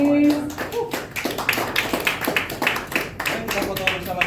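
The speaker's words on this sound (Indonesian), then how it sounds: "Tepuk tangan sekali lagi Bro dan Sis." A small crowd claps at an Indonesian political party event welcoming a new member, brisk overlapping handclaps in a quick, uneven rhythm, close and moderately loud, after a brief voice at the start.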